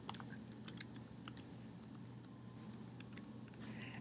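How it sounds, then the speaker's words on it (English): Someone types data into a Microsoft Office spreadsheet on a computer keyboard, producing a faint, quick run of soft key clicks with a few sharper taps in a quiet room. "So just to try this, I'm going to type in serial dilution."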